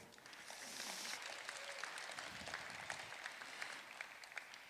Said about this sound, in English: please, another round of applause for you